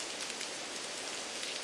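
Steady rain pours down in the game Action Taimanin, a dense, even hiss of drops hitting surfaces that holds constant throughout with no voices.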